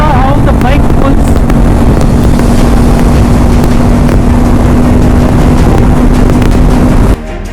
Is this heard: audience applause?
no